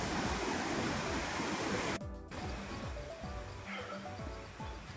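Steady rushing stream water in Meghalaya fills the first two seconds, then a softer, continuous flow with faint trickling continues for the rest.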